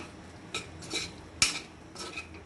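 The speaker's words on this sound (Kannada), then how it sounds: "ಇವಾಗ ಇದನ್ನ ತಿರ್ಗಾ ಬಾಡಿಸ್ಕೊಳ್ಳೋದು ಹೀಗೆ ಥರ ಫುಲ್ ಇವಾಗ ಡ್ರೈ ಆಗೋವರೆಗೂ ಬಾಡಿಸ್ಕೋಬೇಕು" Chicken pickle masala being stirred and sautéed in a pan until dry, with a few sharp clinks of a metal spoon against the pan and soft scraping between them, close and fairly quiet.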